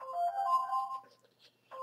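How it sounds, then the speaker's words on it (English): An alarm ringtone sounds at moderate volume, a repeating electronic melody that breaks off and then starts again. "that's my alarm"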